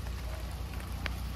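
Steady rain patters on surfaces outdoors while a fire burns for cooking fish in the Vietnamese countryside, a dense continuous hiss with occasional louder drops.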